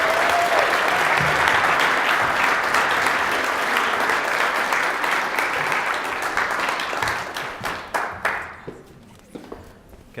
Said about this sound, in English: let's give one more round of applause for TJ